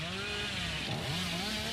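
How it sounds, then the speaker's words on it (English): A steady droning chainsaw from the Dead by Daylight video game, revving continuously at moderate loudness with no talking. "Why are the chainsaw noise? They changed it."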